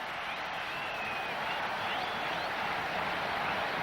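Steady roar of clapping and cheering from a cricket crowd in Colombo after a fine catch in a Sri Lanka versus South Africa match, a dense, continuous mass of applause from a distant stand that stays even throughout.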